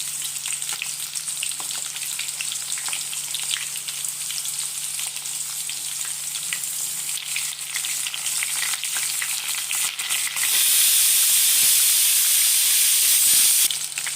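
Horse gram with onion sizzles and fries in a pan, a steady crackling hiss with occasional stirring scrapes, turning into a louder, brighter burst of sizzling near the end.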